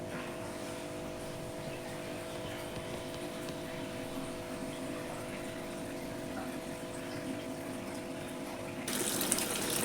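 Dirty water drains from a semi-automatic washing machine, flowing steadily under a constant mechanical pump hum, a continuous low drone that brightens into a louder gush near the end.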